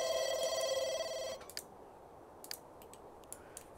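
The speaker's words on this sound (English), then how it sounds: "phone ringing" A phone in The Sims 2 rings with a bright electronic trill for about a second, followed by sparse soft clicks in near silence.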